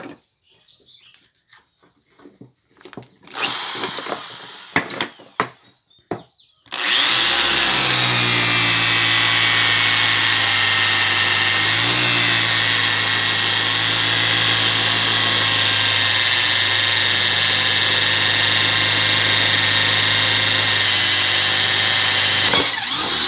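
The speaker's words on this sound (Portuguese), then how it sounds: "Eu vou estar furando ele nessa posição aqui" Power drill boring a hole in the handle of a small rice sickle, a steady loud whine running continuously after a few brief start-up bursts and taps.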